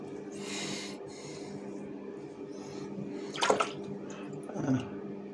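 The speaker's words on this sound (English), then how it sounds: "I wash up my face and then I will look." Water splashed onto a face at a sink after shaving, with a steady trickle of running water, bursts of splashing, and a couple of sharp snorting exhales through the hands.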